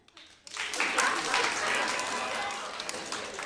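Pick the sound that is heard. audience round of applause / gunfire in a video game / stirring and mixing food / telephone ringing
audience round of applause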